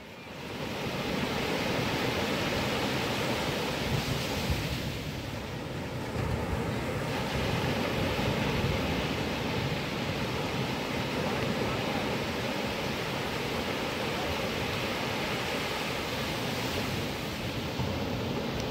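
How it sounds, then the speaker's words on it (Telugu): Ocean waves surging at Baga beach in Goa on a morning with strong water flow, a loud continuous wash of surf with wind buffeting the microphone, no talk. "మార్నింగ్ టైం వాటర్ ఫ్లోయింగ్ చాలా ఎక్కువగా ఉందండి."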